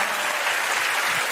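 Dense, steady applause from a concert audience for a rapping performer fills the short moment evenly, with no pauses.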